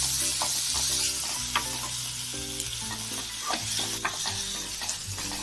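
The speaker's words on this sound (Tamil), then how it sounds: "தக்காளி ஆட் பண்ணிக்கலாம்ங்க ஒரு 2 நிமிஷத்துக்கு வதக்கிக்கலாம்" Onions and tomatoes sauté in a pan for a brinjal masala, giving a strong steady sizzle with spatula scrapes. A low tonal hum runs beneath, and there is no speech.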